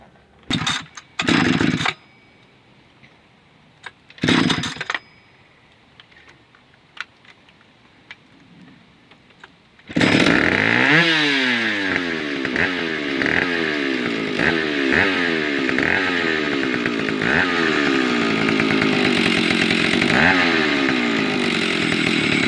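Several sharp rips of a pull cord come first, then a small two-stroke engine on a 1980 STIHL 031AV chainsaw roars to life and runs loudly, revving up and down.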